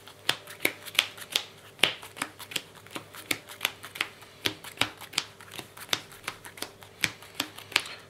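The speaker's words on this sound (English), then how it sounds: "Quick power shuffle." A deck of trading cards is power shuffled quickly, giving a steady run of crisp, close riffling snaps about three or four per second, with no voices.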